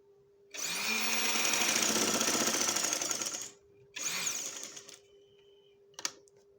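A sewing machine stitches a dress panel in a long whirring run, then a shorter second burst, and finally a quick sharp click, all close, with a faint steady hum between the runs.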